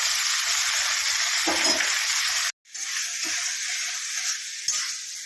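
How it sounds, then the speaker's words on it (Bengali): Crab frying in a pan for crab curry, a loud, steady close sizzle with stirring scrapes that cuts out for a moment and then resumes as strongly. "ততক্ষণ এটা একটু লাল লাল করে ভাজা হোক"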